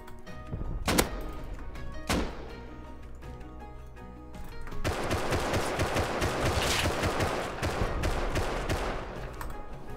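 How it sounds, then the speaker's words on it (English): Gunfire in the survival game Rust during a raid: a couple of isolated shots early on, then a dense, sustained burst of rapid automatic fire that runs to the end. "I'm being shot at."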